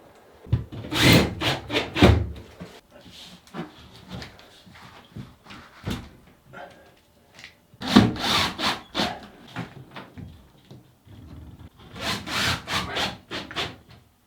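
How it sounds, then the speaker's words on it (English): Overhead drywall in a tiny stilt house interior is cut with an X-Acto knife, producing clusters of close scraping and crunching cuts with quieter gaps between bursts. "I'll cut it with an X-Acto knife."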